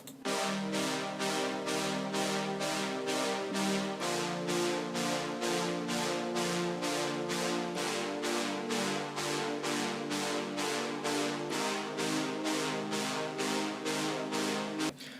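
Simple preset synth chords for a remix, pulsing steadily from a tweaked LFO in rapid even throbs, shifting chord changes every few seconds, loud and alone with no voices.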